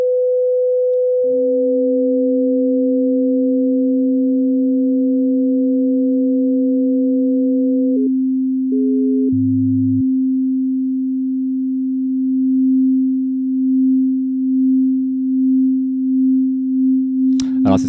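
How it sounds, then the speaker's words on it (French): Pure sine tone from an Ableton Operator synth fed through a Frequency Shifter: a steady electronic tone that steps down in pitch, briefly wobbles and drops, then holds with a slow pulsing shimmer before a short burst at the end. "le frequency shifter, je vais utiliser un opérateur, voilà tout simple"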